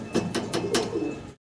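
Fancy Sirazi pigeons coo in a short, close burst with a few soft rustling pulses, ending abruptly in silence.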